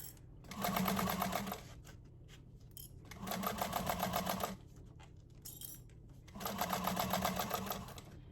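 A sewing machine stitches fabric for an appliqué bag in three distinct bursts of rapid whirring needle action, each lasting about a second or so, separated by quiet pauses, near and clear.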